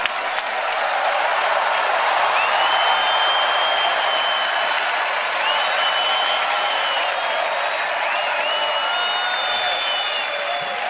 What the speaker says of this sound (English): let's give a big round of applause to all of tonight's performers